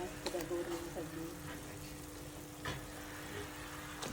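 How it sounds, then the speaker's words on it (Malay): Beef that was smoked and then fried sizzles softly as it is added to a pan of chili for daging balado, a steady low frying hiss with a few light stirring clinks and no talk. "Sekarang kita nak masukkan daging yang kita dah goreng tadi."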